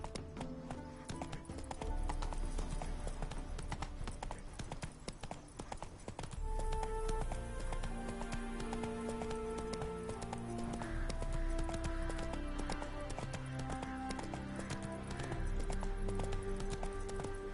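Horse hooves gallop in The Witcher 3 video game, a steady clip-clop rhythm running the whole stretch, loud and close, with game music layered underneath and a brief voice near the start.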